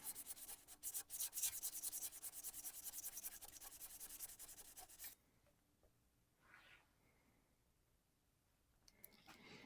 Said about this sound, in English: Now I'm sanding.